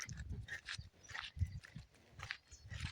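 A dog on a farm where cotton seed is being sown barks in a string of short, fairly faint bursts, several yaps spread across a few seconds with outdoor background noise between them.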